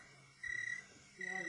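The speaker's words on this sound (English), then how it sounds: "That's cricket." A cricket chirps in two short, shrill trills separated by a pause, fairly faint against a quiet background.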